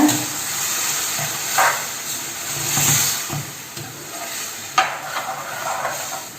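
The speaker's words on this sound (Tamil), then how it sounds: "சேர்த்துட்டு நல்லா கிளறி விடுங்க" Soft scraping and stirring of mashed elephant foot yam in a pan over a steady sizzling hiss, with a few louder spoon knocks scattered through.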